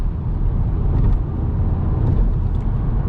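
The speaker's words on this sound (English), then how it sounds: "today's run will be like high-speed runs on the Verna" A Hyundai Verna driven at high speed on a road trip gives a steady, loud broadband rumble of road and engine noise that stays constant throughout, with no talk.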